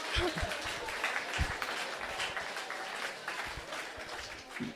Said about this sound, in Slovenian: Ne vem, zakaj zdaj ploskate